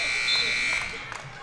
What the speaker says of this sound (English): Right at the buzzer, Mikkel Hatterley tried to convert.